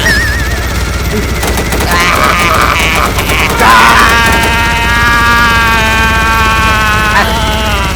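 Rapid gunfire and explosive RPG shots in the video game Banana Eater, dense and loud over continuous game music and mechanical clatter.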